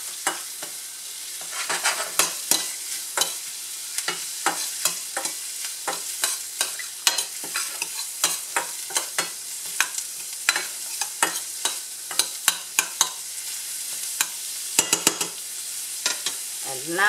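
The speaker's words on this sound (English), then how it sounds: "Give it a little time to saute and release some of the flavor." Ginger, shallot and scallion sauteing in a pan, a soft steady sizzle punctuated by frequent sharp clicks and scrapes of a utensil stirring, close and without talk.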